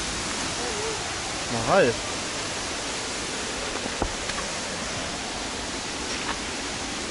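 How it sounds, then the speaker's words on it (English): Steady broadband rush of Kilangin waterfall in Laguna, a constant roar throughout, with a brief voice and a few small sounds rising over it near the start. "First waterfall, first dip in the water."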